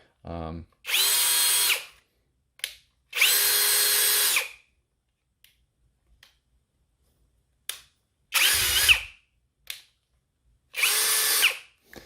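A brushless cordless power drill whirs in four loud bursts of about a second each, separated by short pauses and faint clicks.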